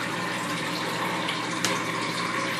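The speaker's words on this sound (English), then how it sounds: "see the water starting to run out now, guys? It's starting to run out good, too." Water drains steadily from a Magic Chef portable washer, a continuous rushing gush with no pauses, heard alone at a moderate level.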